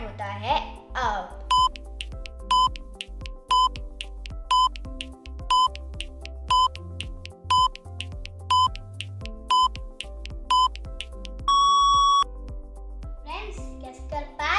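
Countdown timer during a crayon brain-teaser puzzle, beeping once per second in a steady series of short bright tones, ending in one longer sustained beep, with a voice speaking at the start and end.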